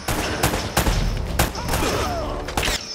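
Gunfire in Uncharted: Drake's Fortune, several loud sharp bursts spaced through the clip over a busy firefight din with ricochet-like whines.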